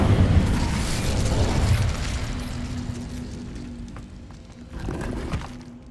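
The Incendio fire spell cast in Hogwarts Legacy, a loud whooshing burst of flame that roars for about two seconds, then fades into low rumbling, with a second softer flare near the end.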